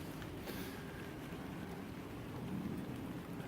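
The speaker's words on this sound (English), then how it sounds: "as long as this rain doesn't ruin the paint" Steady rain drums on a tarp tent roof that is propped up with a ladder, a dense even patter with faint low rumbling underneath, continuous and fairly close, with no voices.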